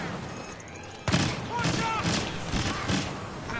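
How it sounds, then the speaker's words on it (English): A proximity bomb goes off in a Star Wars video game, a sudden loud blast followed by a run of rumbling booms and scattered battle noise that stays dense to the end. "Proximity bomb."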